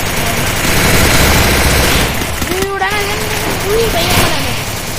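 Loud Free Fire video game gunfire, rapid crackling bursts of shots running throughout with pitched in-game tones and a voice speaking over the action.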